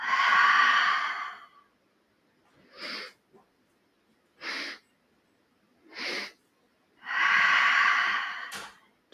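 Strong breaths during a Breath of Joy pranayama yoga flow: two long, loud, breathy exhales with a few shorter, softer breaths between them, close and clear with no talk.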